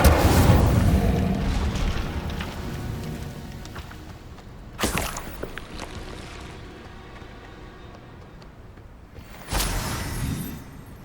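Incendio fire spell cast in Hogwarts Legacy on PS5, loud whooshing fiery bursts, one opening the clip, another near the middle and a third near the end, with rumbling game ambience between.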